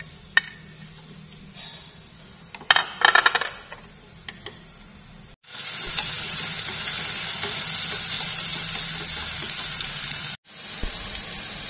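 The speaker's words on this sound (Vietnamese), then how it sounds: "Mình cho hành tím vào, đầu hành vào luôn, mình phi cho nó thơm." Sliced shallots drop into hot cooking oil in a pot with a few metallic clinks, then a steady, close sizzle of frying that cuts out briefly and resumes.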